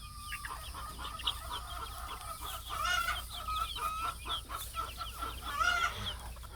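Chickens cluck and chatter in an outdoor flock, including a true blue rooster, with repeated short calls and a low, steady background hum.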